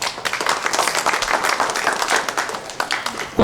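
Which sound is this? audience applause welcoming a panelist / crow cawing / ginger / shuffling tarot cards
audience applause welcoming a panelist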